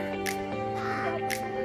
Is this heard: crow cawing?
yes